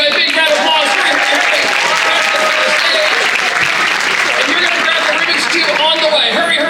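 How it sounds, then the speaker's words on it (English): Big round of applause from an audience at a university speech night, dense continuous clapping filling the whole stretch with voices mixed in. "they're going to give you a big round of applause"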